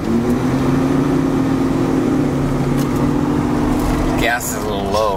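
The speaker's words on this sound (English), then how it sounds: "I hope you kind of seen and heard the shift there. It just shifts beautifully." Interior engine drone of an Oldsmobile Ninety Eight with a 455 V8 cruising, a steady hum that drops briefly as the automatic transmission shifts near the end, with a voice talking over it.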